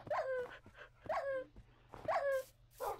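Tamed wolf dogs in the Minecraft video game whimper and yip in three short, evenly spaced bursts, each a rising whine with bright overtones, close and fairly loud over a faint steady background hum.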